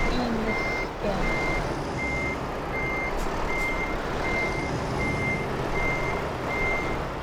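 Truck reversing beeps in a truck-driving video game, a steady series of evenly spaced electronic beeps repeating over a constant engine rumble, with no talking.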